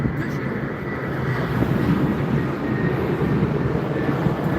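Lufthansa Airbus A320 arriving at Frankfurt Airport, a low rumbling roar of the approaching jet that builds steadily over a few seconds, heard at a distance in an open outdoor setting.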